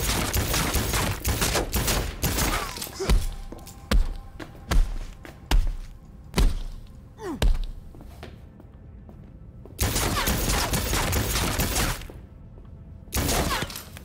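Cyberpunk 2077 gunfire, loud bursts of automatic fire alternating with single heavy thumping shots, some spaced in a rhythmic string, then dense volleys return after a brief lull.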